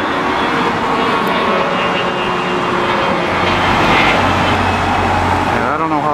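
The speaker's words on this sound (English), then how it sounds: "It's that big plane." A large dual-engine airplane rumbles steadily overhead, a loud continuous roar with a faint pitch sweep near the end, heard outdoors among trains in Montreal.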